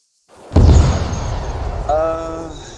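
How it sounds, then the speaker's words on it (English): A single distant boom of what may be a vehicle exploding during a military exercise, a sharp onset that rumbles and fades, followed by a voice talking. "Sounds like a vehicle explosion."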